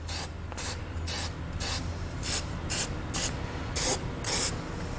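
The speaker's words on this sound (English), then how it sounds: "I'm just going to spray everywhere that has any cuts or anywhere the paint has been damaged" Spray paint from an aerosol can hisses onto scratched, exposed metal on a 2014 Chevrolet Malibu during a base plate install, in nine short, evenly spaced bursts close to the mic with no talk.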